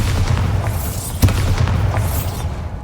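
The Bombarda spell going off in Hogwarts Legacy gives a deep, rumbling boom with one sharp burst in the middle, over continuous low game ambience.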